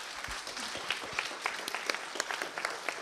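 An audience at a university international exchange event applauds, a soft, steady patter of many hands clapping at a distance with faint crowd murmur beneath.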